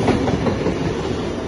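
A train passes the platform at Clyde station, its rumble and clickety-clack of wheels loud and close throughout.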